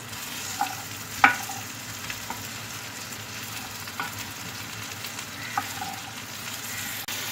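Okra (bhindi) frying in oil in a kadai, a continuous close sizzle with a few sharp stirring clinks and scrapes scattered through.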